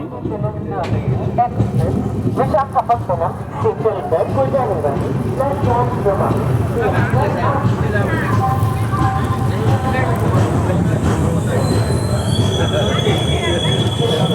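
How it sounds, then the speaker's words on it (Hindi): The Visakhapatnam–Mumbai LTT SF Express pulls into Igatpuri station with loud, close rumbling wheels and high metallic squeals on the rails, a person talking over the steady clatter throughout. "सो अभी हमारी ट्रेन पहुंची है इगतपुरी।"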